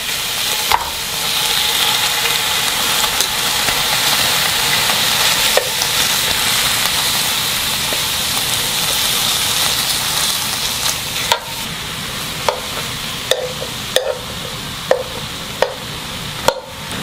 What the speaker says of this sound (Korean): 밝은 팬에다가 쭈꾸미를 넣고 물 없이 데칠 겁니다